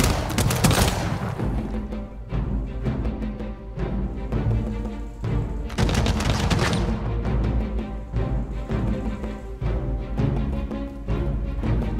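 Repeated gunfire strikes city walls during a battle in the strategy game Humankind, dense bursts of shots and impacts thundering continuously over game music, with heavy volleys near the start and around the middle.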